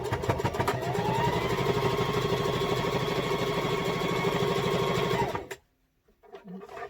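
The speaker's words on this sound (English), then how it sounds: "so let's sew this last one here" A sewing machine stitches a fabric face mask, running in a steady, rapid mechanical whir for about five seconds at close range before stopping, followed by faint handling noises.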